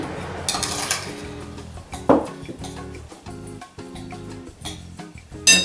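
A utensil scrapes and clinks against a bowl while ingredients are mixed, giving rhythmic stirring strokes with occasional sharper knocks, close and moderately loud over a steady background tone.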